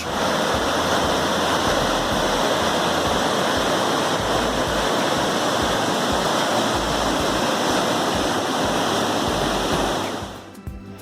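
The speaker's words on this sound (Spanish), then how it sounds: "las aguas blancas del río Arazas se descuelgan tumultuosamente para formar, en esta ocasión, la preciosa cascada de Abetos" Steady roaring rush of the Abetos waterfall on the Arazas River in Ordesa, Spain, loud and continuous, with dense broadband water noise throughout; it drops away abruptly at the very end.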